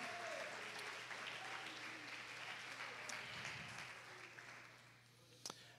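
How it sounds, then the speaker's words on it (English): A church congregation applauds at a Sunday evening service, steady faint clapping that tapers off toward the end, heard from a distance. "Let's give them all a round of applause."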